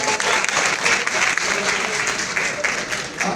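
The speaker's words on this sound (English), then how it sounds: "Let's give him another round of applause." Town hall audience at a meeting with #EndSARS protesters, youths and students gives a steady, dense round of applause, loud and continuous throughout.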